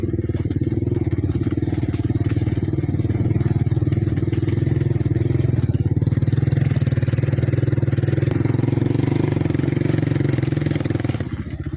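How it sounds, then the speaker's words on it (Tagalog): A motorcycle engine drones steadily and loudly at a constant mid-range pitch for the whole stretch, close up, while riding a rough road toward Mt. Labo in the Philippines, with no talking. "malaki yung pulong motor."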